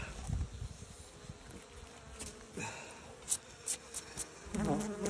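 Honey bees buzz around a frame pulled from a hive, a steady low drone of many insects with a few sharper passes of single bees flying close.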